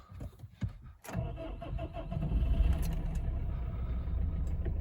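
A Subaru/Opel 1.7 diesel engine cranks briefly after a few knocks, catches, and settles into a steady idle that grows slightly louder and holds even, heard close with no voices.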